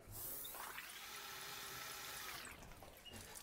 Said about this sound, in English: I am going to fill this entire basket all the way to the top until it starts splashing on my feet